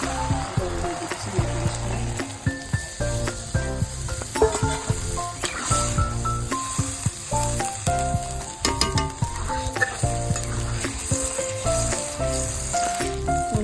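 Peas frying with spices and mutton fat in a pan for ghugni, a steady sizzle with occasional stirring clinks, alone under faint background music.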